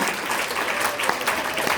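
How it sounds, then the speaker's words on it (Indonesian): A short burst of applause, a small group clapping steadily at moderate volume. "tepuk tangan dong ya"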